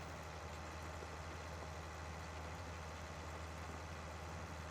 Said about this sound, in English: Sounds like the tractor's about to die there.